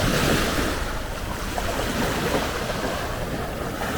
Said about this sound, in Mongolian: Ийм сайхан далайн эрг.